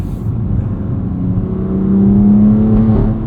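A 2021 BMW M2 Competition with a six-speed manual accelerating on the road, its engine drone steady and rising in pitch toward the end, heard from inside the cabin, loud and continuous, with no talking.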